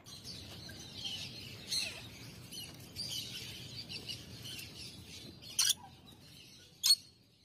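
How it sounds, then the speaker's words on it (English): A parrot gives two short, harsh squawks near the end, after a stretch of faint chirping and rustling, with no voices. "P for parrot."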